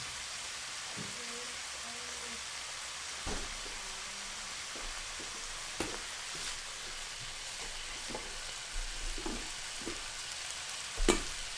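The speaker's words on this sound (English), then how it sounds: "I'm just frying this up. Like I said, the chicken hearts, lots of garlic, some ginger" Chicken hearts frying in a pan with plenty of garlic and ginger give a soft, steady sizzle, with occasional stirring clatters and light taps scattered throughout.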